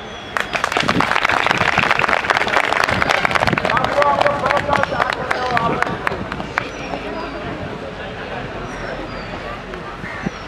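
Crowd at a protest rally clapping hard, sharp dense claps starting almost at once and rolling on for several seconds before thinning out and trailing off into a quieter murmur of voices.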